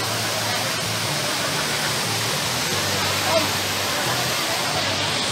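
Verdivia Falls waterfall roaring steadily, a loud continuous broadband rush of falling water that fills the scene, with faint crowd voices mixed in beneath it.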